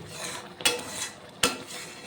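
A spoon stirs thick, jelly-like raw mango chutney in a pan, knocking the pan twice in sharp, separate clinks over a soft background hiss.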